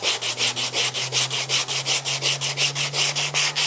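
Wood is sanded by hand with 100 grit sandpaper in a fast, even rhythm of back-and-forth strokes, loud and close, with no talking.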